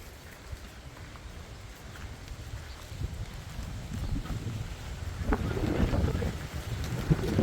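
Steady low wind rumble before a rainstorm buffeting the microphone, swelling louder and gustier toward the end, with faint scattered background noise.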